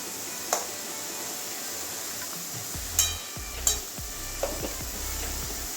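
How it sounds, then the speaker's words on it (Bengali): A spatula stirs ghee and garam masala through an ash gourd curry in a pan, making four or five separate scraping knocks over a low, steady hiss, close by and with no one speaking. "এবারে ভালো করে মিশিয়ে নেব ঘি গরম মশলা"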